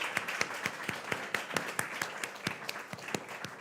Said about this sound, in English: I give an applause to Marjana.